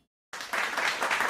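Applause welcoming a new viewer on a sports podcast stream, starting abruptly after a brief silence and continuing as a steady, moderately loud crowd clapping.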